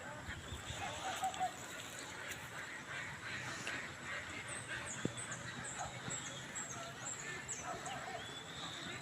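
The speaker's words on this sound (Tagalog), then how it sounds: "Pato itik po yun, oh." Several itik ducks quack and honk nearby, overlapping in irregular bursts, with faint chatter and outdoor noise underneath.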